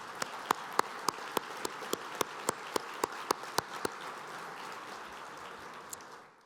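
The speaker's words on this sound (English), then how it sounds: "please join me in a round of applause for them" Audience at a university business leader of the year awards event gives applause, heard as a steady wash of clapping with sharp, evenly spaced louder claps standing out before it fades at the end.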